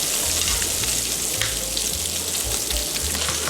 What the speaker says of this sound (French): Le bruit de la casserole m'a fait dire que les lardons commençaient à dorer.